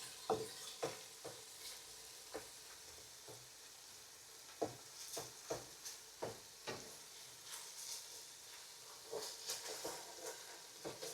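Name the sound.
bacon frying and being stirred over strong heat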